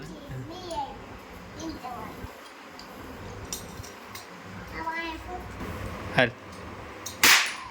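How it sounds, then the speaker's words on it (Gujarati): Homemade Diwali firecracker built from a nut and bolt fires with two sharp, loud bangs near the end, after a stretch of children and adults chatting outdoors. "નટ બોલ વાળો ફડાક્યો અને એ પણ ધમાકેદાર."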